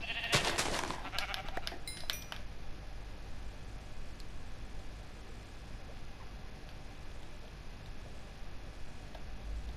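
Sheep bleating in the Minecraft survival game, a cluster of loud, close calls in the first two seconds, then only a steady low background for the rest.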